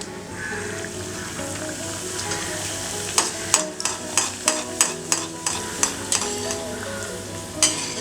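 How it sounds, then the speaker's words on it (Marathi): Karanji (gujiya) pastries frying in hot ghee give a steady, close bubbling sizzle. Around the midpoint a run of sharp, regular clinks and taps cuts in above it, with no one talking. "आपण आता तळून घेऊया, कारण तूपही तापलेलं आहे."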